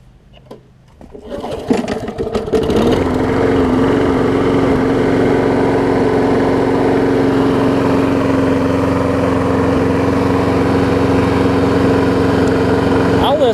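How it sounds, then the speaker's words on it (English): A Briggs engine on a lawn mower deck is pull-started, with a few sharp tugs and sputters before it catches and settles into a loud, steady running drone that holds to the end. "So let me start her up."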